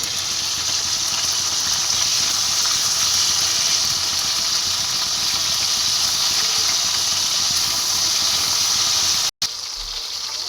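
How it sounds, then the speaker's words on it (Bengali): Chicken pieces frying in a pan, a loud, continuous close hiss of hot oil with little variation, ending in a sudden brief break. "এবারে চিকেনগুলোকে আমি একটু উল্টো পাল্টে ভালো করে লাল করে একটু ভেজে নেব"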